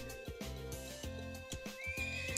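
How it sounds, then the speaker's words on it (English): Horse in the video game Trails of Cold Steel whinnies in a shrill, quavering neigh over a game music backing, close and clear, with no talk. "I'm on the horse now. Time to ride."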